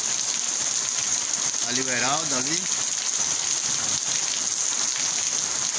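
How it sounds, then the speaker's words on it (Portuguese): Heavy rain pours in Maceió in the early morning, a steady loud hiss filling the scene, while someone briefly speaks over it partway through. "muita chuva aqui, muita chuva em Maceió."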